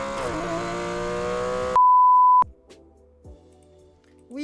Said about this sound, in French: d'une Porsche 911 GT3 RS sur Need for Speed.